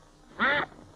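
A single short duck quack, clear and nasal, lasting a fraction of a second against quiet background.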